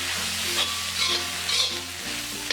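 Turmeric, coriander powder and garam masala fry in a pan for pepper chicken, giving a loud, steady hissing sizzle with soft scraping stirs, close and with no speech.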